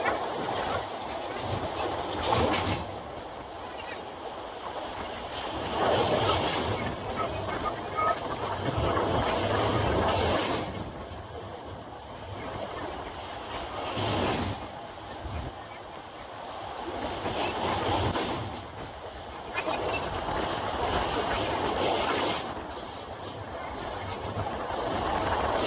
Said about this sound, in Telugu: స్టేషన్కి వచ్చింది, ఇప్పుడు ట్రైన్కి వెళ్ళిపోతుంది